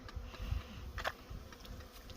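Bees around a hive during early-season pollen patty feeding, a steady low insect hum with no talk, level and moderately close throughout.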